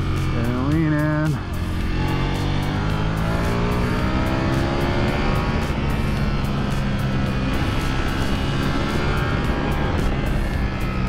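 A Ducati Panigale V4R motorcycle roars around a race track, loud and close with a rising and falling engine whine that shifts through gears over steady wind noise.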